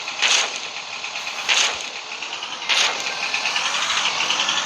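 A van's engine driving in the Roblox game Barry's Prison Run, a steady mechanical hum that swells in regular surges about every second, fairly loud and alone.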